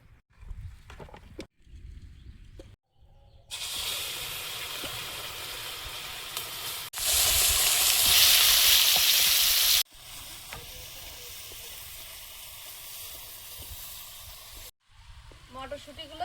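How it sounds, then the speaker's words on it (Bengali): Oil sizzles and hisses in a kadai over the heat, starting abruptly, swelling louder for a few seconds, then settling to a steady fry, with brief quieter gaps at the start and end. "কড়াইতে তেল দিয়ে দিচ্ছি"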